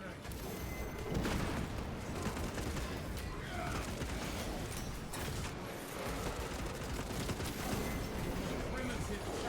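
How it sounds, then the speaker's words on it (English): Dense, continuous battle noise from the Space Marine 2 video game: heavy gunfire and booms with a crack grenade thrown and exploding, loud and busy throughout. "Reloading. Throwing crack grenade."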